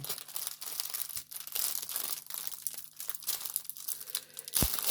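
Crinkly plastic packaging around mirrors is pulled and crumpled open, a steady close rustle with brief crackles and tearing across the whole stretch, no voice present.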